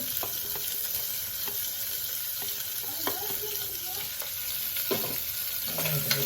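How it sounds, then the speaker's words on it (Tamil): Onions sautéing in a pan for a home-cooked dinner, giving a steady close sizzle with occasional scraping stirs and light clinks throughout. "வெங்காயத்தை போட்டு வதக்கிண்டு"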